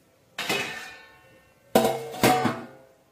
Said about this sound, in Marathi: आता मी इथं झाकण ठेवते.